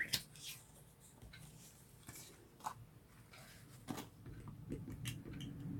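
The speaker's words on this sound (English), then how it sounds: "The easiest way I know to cut is just using a simple scissors." Scissors snip through paper to cut out printed images of girls for a February art journal page: a string of small, crisp cuts and clicks, close and fairly quiet, at an uneven rhythm.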